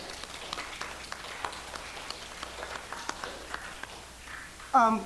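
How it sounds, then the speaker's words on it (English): A church congregation gives a hand clap, a soft spread of scattered claps across the room with some voices mixed in, ending in a brief louder sound. "Let's everybody give a hand clap."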